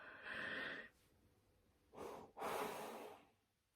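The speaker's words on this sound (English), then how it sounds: "And there's the yawn." A person yawns aloud, a long breathy exhale followed by a pause, then a second, louder drawn-out breath with a rising and falling tone, close and alone with no talking.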